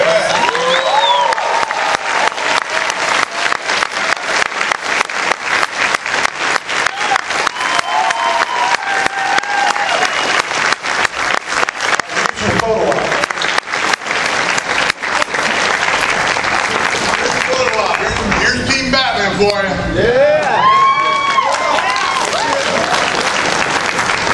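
A large crowd at a comic convention Batman panel breaks into long, loud, sustained applause with cheering and whistles rising through it, the clapping thick and unbroken before a few voices surface near the end.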